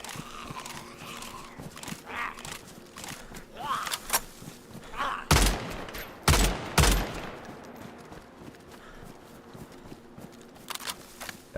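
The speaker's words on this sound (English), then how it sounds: "And somebody else is shooting." Gunfire from another player in DayZ on the Namalsk map: a few sharp, loud shots in a short cluster midway, standing out against quieter background game sounds and footsteps.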